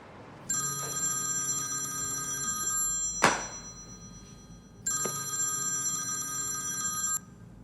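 Telephone bell ringing in two long bursts with a thump in the gap, as a call is placed, loud and clear with no talk.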